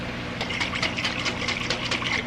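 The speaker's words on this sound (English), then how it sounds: "A little water in the jar." Water poured into a jar of tomato sauce, a close, steady bubbling gurgle with quick irregular splashes, continuous and moderately loud with no talk.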